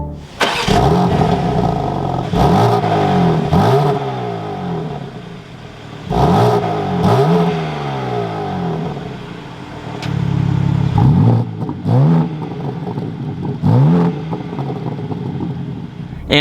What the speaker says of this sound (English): let's fire this back up and take a listen to how the M3 Comp sounds